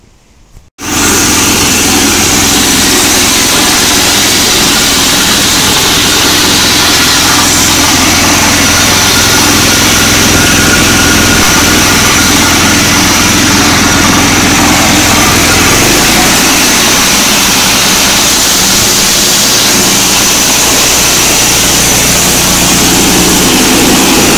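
A 1970s Eaton Viking snowblower engine runs steadily and loudly up close for the whole stretch after a brief start, with a sputtering, uneven note that suggests low fuel or a troublesome carburetor.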